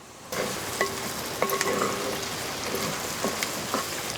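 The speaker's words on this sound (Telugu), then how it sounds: "ఈ అల్లం వెల్లుల్లిపాయ పేస్ట్ పచ్చివాసన పోయే వరకు కలుపుకోవాలి" Ginger-garlic paste being stirred into softened frying onions for a mutton boti curry, a steady close sizzle broken by several distinct scrapes and clicks of a spoon against the pan.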